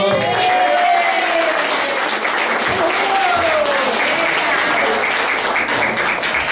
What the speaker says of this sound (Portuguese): Karen, uma salva de palmas.